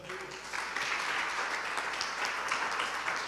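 A church congregation breaks into applause, a dense, sustained wash of many hands clapping together at steady volume for a few seconds.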